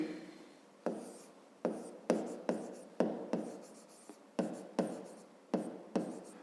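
A pen writes a math solution on paper in a quiet room, with a series of about ten scratchy strokes, each starting sharply and trailing off, close and fairly soft.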